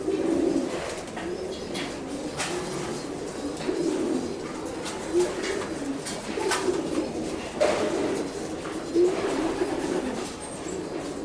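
A racing pigeon, a breeding hen, coos softly while held in the hand, giving low repeated coos at uneven intervals close by against a faint background.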